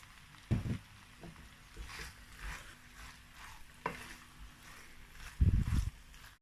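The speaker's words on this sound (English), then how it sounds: "So I'm mixing it together." Gizzard and plantain are stirred in sauce in a pan, with scraping bursts near the start and a louder one near the end over a faint sizzle, no talking.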